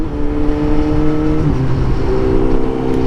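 BMW motorcycle engine revving at close range, a steady loud growl with a pitch shift midway as the revs drop and settle.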